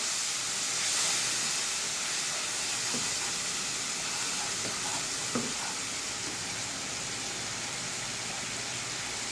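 Spice paste with chili powder sizzles in a pan after a little water goes in, a loud, steady, close hiss with faint stirring scrapes and no talking.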